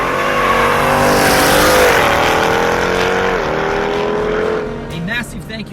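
A 2018 Jeep Grand Cherokee Trackhawk with a 900-horsepower engine roars loud and close, revving through rising and falling pitch sweeps before easing off into lighter blips at the end.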